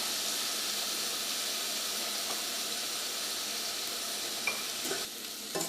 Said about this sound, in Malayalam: ഇതിലേക്ക് നമുക്ക് തക്കാളി ചേർക്കാം. ആവശ്യത്തിന് ഉപ്പ് ചേർക്കാം.